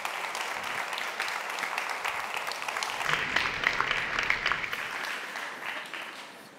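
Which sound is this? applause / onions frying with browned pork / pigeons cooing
applause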